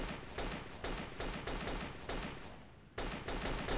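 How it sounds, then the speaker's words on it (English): Gunfire in the Delta Force Xtreme 2 video game: rapid bursts of automatic shots in a dense, even rhythm, with a brief fading lull before firing resumes. Moderately loud and heard without talk. "who's shooting at me?"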